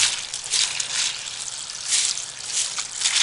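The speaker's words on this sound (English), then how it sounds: "where the water comes in, it splashes out" Water from hoses splashes steadily into an aquaponics greenhouse tank and onto nearby plastic, a continuous close hissing spatter with surges, with no voices.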